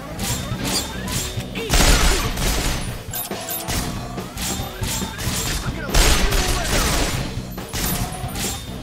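A 12-gauge shotgun fires repeatedly in a video game, loud crashing blasts in quick irregular succession with game noise and a voice speaking between shots.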